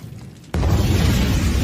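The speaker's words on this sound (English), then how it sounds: "What's that? A smoke bomb?" A smoke bomb in an anime scene goes off with a sudden loud burst and then a sustained, hissing rush of smoke that fills the rest of the moment, with no talking.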